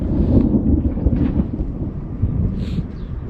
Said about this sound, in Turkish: Bugün de çok yağışlı bir hava var.